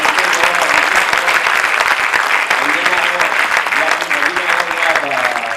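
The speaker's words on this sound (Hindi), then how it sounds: "मैं चाहता हूँ कि जोरदार तालियों से" Loud, dense applause from an audience at a gems and jewellery trade federation event rolls on steadily and close throughout, with voices faintly mixed in.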